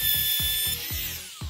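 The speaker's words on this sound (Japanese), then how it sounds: "前と後ろきちんとね、はまったことを確認した状態でトリマーをかけるとですね" A wood trimmer router cuts a groove into a round wooden rod held in a jig on a counter, giving a steady high whine with a series of rhythmic low thumps as the bit bites, close and fairly loud.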